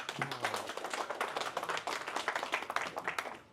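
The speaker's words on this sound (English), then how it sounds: "can we get a good round of applause for him, please?" Audience claps and applauds for a hacker speaker known as the Cyber Barista at a hardware talk, a dense, steady patter of many hands from nearby that holds throughout, with a brief low voice near the start.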